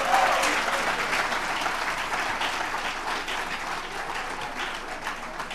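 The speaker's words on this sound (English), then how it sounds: "a hand of applause for her again." Audience applause at a celebration gathering for a woman preacher rises as a dense, loud burst of many clapping hands, then tapers slightly while staying sustained to the end, with no voices over it.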